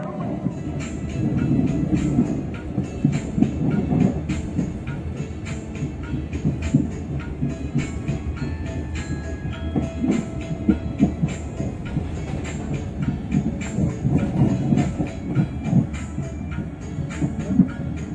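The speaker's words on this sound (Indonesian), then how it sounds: "Itulah kita nikmati perjalanan bersama kereta api Gumarang." The Gumarang passenger train, business class, rolls along the rails in Indonesia with a steady rumble and rhythmic clicking of wheels over track joints, heard from inside a carriage.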